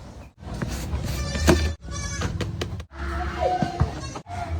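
Triplet goat kids bleat repeatedly in short, high, wavering cries, close by, with rustling and handling noises in between.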